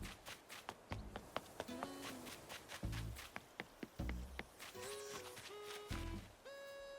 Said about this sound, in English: The cicadas going off together, right? That was crazy.